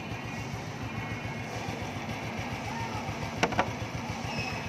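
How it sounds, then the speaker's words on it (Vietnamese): Small single-cylinder engine of a 2005 Honda Wave ZX motorcycle with about 38,000 km on it, running steadily at idle close by in a low rhythmic putter, with two brief clicks near the end. "Anh em nghe tiếng máy anh em"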